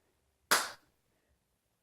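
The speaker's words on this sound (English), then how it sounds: "come up and clap" A single sharp, close hand clap during an ab exercise, loud and crisp against near silence, with the start of a second clap at the very end.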